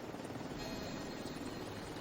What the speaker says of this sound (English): This one you just watch the helicopter take off.